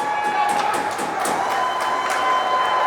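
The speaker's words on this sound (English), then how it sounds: "the Somerset crowd boisterous as ever" Somerset home crowd at a high school ice hockey game, Somerset Berkley against Nashoba, cheering and shouting in a sustained boisterous roar, with rhythmic pulses of clapping and chanting and a commentator's voice over the top.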